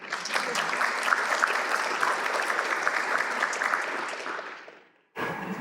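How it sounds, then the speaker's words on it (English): A theater audience gives a sustained round of applause, a busy crackle of many hands that fades out near the end before a brief burst of room noise returns. "So give yourselves a round of applause."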